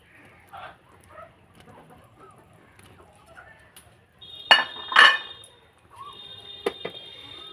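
A pan of orange rasgulla in syrup is swirled, then a lid is set on it, giving a few sharp metallic clinks and rattles among quieter scraping and sloshing.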